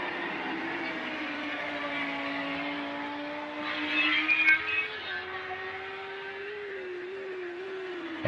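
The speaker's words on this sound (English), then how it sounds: "I'll let you enjoy some of the sounds of these cars" Race car engines in Project CARS 2 at Hockenheim drone steadily during an endurance race, a sustained whine climbing slowly in pitch as cars pass, with a brief louder swell midway.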